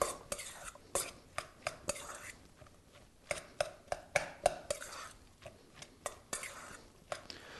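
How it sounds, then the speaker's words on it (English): Potato knish filling being stirred and mashed with salt and pepper in a bowl, giving a run of sharp utensil scrapes and clacks at an uneven rhythm, close and fairly quiet. "Mix these together, and this is going to be the filling."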